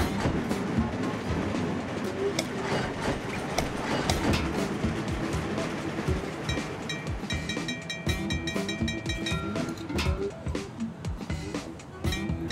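In the game Train Crisis, a train rolls along rails with continuous rumbling and rhythmic clickety-clack, steady and moderately loud throughout, with no speech over it.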